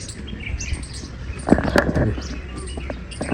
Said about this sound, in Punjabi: ਪੰਛੀਆਂ ਦੀ ਆਵਾਜ਼ ਤੁਸੀਂ ਸੁਣ ਰਹੇ ਹੋਵੋਗੇ